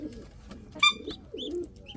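An Indian fantail pigeon coos softly nearby in low, rolling calls, with a few sharp chirps and a brief bright click between them.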